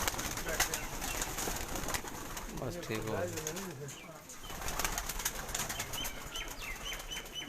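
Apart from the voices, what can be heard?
migratory pigeons cooing and flapping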